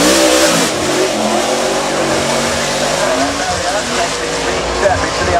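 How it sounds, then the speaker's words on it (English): A modern NASCAR race car accelerates uphill at the Goodwood Festival of Speed, its engine roaring loud and steady for several seconds while a commentator talks over the noise. "this gives you an idea of just the sheer size of a modern day NASCAR heading up the hill now"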